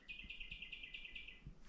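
A single bird chirps in rapid, evenly spaced bright notes for over a second at a quiet remote campsite on a coastal hiking track, faint and fairly close against soft background hush.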